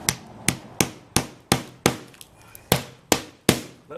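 A hammer nails down the corners of metal skylight flashing, about ten sharp, close strikes in a steady rhythm, each with a bright metallic ring.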